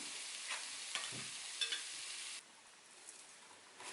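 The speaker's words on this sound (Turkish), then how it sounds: "Ocakta sotelemeye bırakıyoruz." Steady sizzling of mushrooms sautéing in a pan, with a few soft stirring scrapes and clicks; the sizzle drops away abruptly partway through, leaving a quieter hiss.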